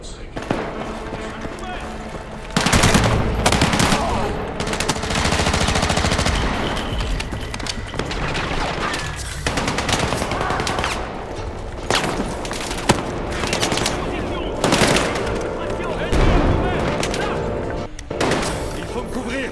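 Rapid automatic gunfire and bursts from the video game Battlefield 6, loud and sustained with booms, under shouted voices throughout.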